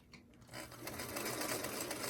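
A sewing machine stitches quilt star pieces, starting with a few light clicks before settling into a steady, close, continuous whirring run.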